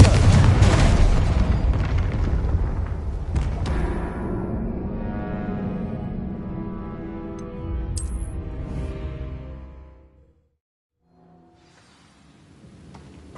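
A Confringo fire spell explodes in the Hogwarts Legacy game with a loud, close boom that rolls into a long rumbling decay and fades to near silence, followed by a faint return of ambient game sound.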